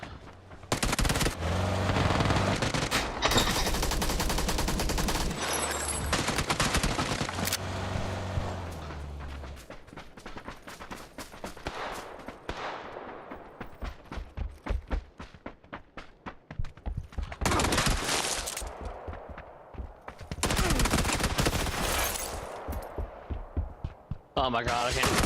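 Video game gunfire: loud, rapid automatic bursts that repeat in clusters with short pauses between them, with voices heard amid the shooting.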